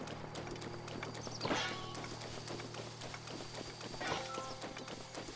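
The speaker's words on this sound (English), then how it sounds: "Eventually I'm going to have to get another horse because... yeah, Mr. Ed doesn't have enough stamina" Horse hooves thud in a quick gallop across open ground in the Zelda Breath of the Wild video game, a steady muffled clatter under game ambience with a couple of brief swishes.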